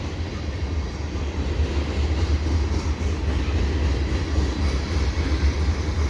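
A CN freight train rolls past on a winter day, a steady loud rumble of rail cars with low droning wheels and faint clatter, continuous throughout with no voices.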